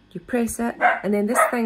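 A dog barks a few quick yips close by, mixed in under a person talking over it.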